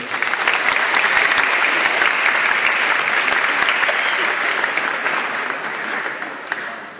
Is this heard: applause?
yes